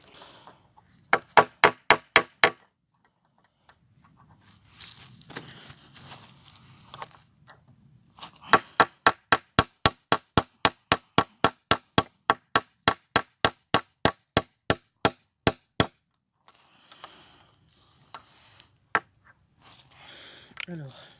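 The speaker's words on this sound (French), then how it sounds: "c'est parti pour fixer un clou" A hammer drives a nail into the wooden roof of a hut, sharp metallic clangs in a quick burst, then a long steady run of evenly spaced blows, with brief talk and handling noise in the pauses.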